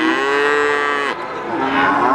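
Young breeder cattle at a village livestock market give a loud, sustained moo that dips briefly and then swells again, close by and heard alone without talk.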